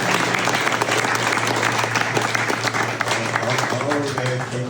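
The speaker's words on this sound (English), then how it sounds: "Come, let's give it a round of applause." Audience applause after a blues performance at Hopson Plantation, steady dense clapping throughout with a constant low hum underneath and a few voices calling out near the end.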